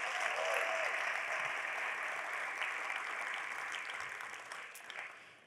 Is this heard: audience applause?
yes